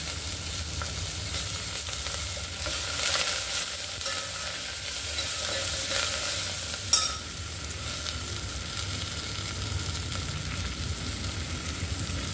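Curry leaves sizzling in hot oil while tempering dal for varan, a steady loud hiss with a little stirring and a single sharp pop near the middle, with no voices.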